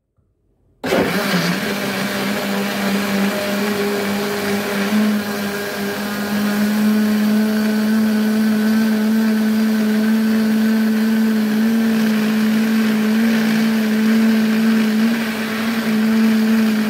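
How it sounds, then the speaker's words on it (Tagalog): A blender whirring to life and running continuously on a condensed milk ice cream mixture, a loud, steady, close motor whine that holds throughout. "i-blend muna natin siya"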